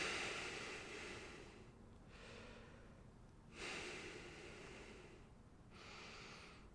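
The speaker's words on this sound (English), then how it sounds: "Take 3 deep breaths." Slow deep breaths, each a broad airy inhale and exhale drawn in and let out, repeating about three times in close, quiet succession with short pauses between.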